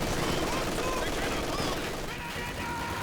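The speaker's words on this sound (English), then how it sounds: "Machine gun keeping the suppression on there, gets the pin." In Company of Heroes 2, a machine gun fires steadily to suppress and pin an enemy squad, a dense continuous rattle of battle noise with a voice faintly underneath.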